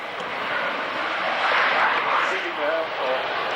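A twin-engine fly-by-wire jet roars past at the 1994 Woodford Airshow, a broad, steady jet rumble that swells near the middle, with an announcer talking over it.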